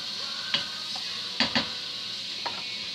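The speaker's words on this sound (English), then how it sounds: "We're just sauteing this stuff, actually." Vegetables for homemade pumpkin soup sauté in a pot under a steady hiss, with a few sharp spoon scrapes and knocks against the pot, two close together near the middle.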